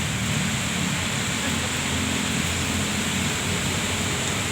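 Rain falls steadily outdoors as a dense, even hiss that stays loud and unbroken throughout, with no voices present.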